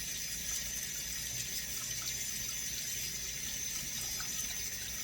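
Water runs from a tap in a steady, fairly faint hiss as parboiled rice is rinsed, continuous and unbroken throughout.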